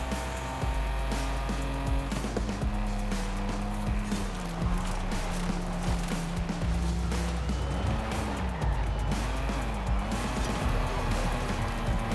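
A 1986 BMW M635CSi in Forza Horizon 5 drives hard and steady, its engine droning loudly and shifting pitch up and down as it accelerates and lifts, with occasional tire squeal throughout.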